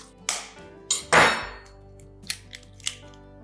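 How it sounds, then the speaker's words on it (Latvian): Eggs, water and oil going into a packaged muffin flour mix in a bowl: a few sharp knocks and clinks, one louder rushing splash in the middle, then lighter taps, close by with no talk. "Pēc tam likšu klāt olas, ūdeni un eļļu."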